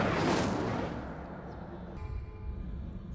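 An Incendio fire spell cast in Hogwarts Legacy lets out a single loud fiery whoosh and burst that fades into a low lingering rumble over a few seconds.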